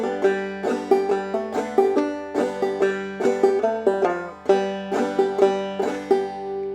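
A clawhammer banjo plays the fiddle tune June Apple, with bright plucked notes and brushed strums in a steady bouncing rhythm, close and clear with no voices.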